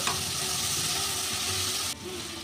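Ginger, garlic and green chili paste frying in a pan, a loud dense sizzle that continues steadily and drops a little near the end.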